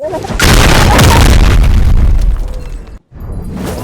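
A loud in-game explosion in Roblox booms near and heavy for several seconds, then cuts to a brief silence before game noise resumes.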